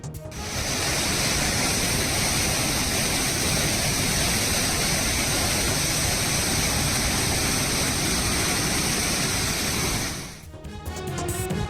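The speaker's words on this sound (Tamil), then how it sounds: "கனமழை காரணமாக கோவை குற்றால அருவியில் வெள்ளப்பெருக்கு." Kovai Kutralam falls in flood after heavy rain, a loud, steady, broadband roar of rushing water that fills the scene without a break before cutting off near the end.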